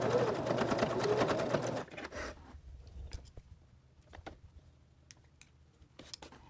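Sewing machine stitching a small lip balm holder, a steady close whirring run that stops after about two seconds, followed by quiet clicks and handling noises.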